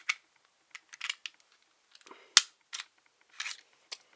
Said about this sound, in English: So, take down the Glock.